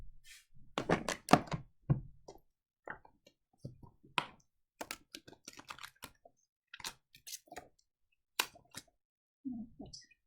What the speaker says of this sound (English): So I'm actually going to stamp first.